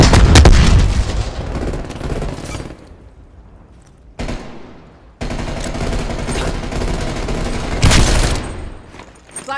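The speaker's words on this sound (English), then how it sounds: "C4 going out." Explosions and gunfire in the video game Call of Duty Black Ops Cold War: a heavy blast opens, rapid shots rattle on, then further loud bursts follow after a short lull.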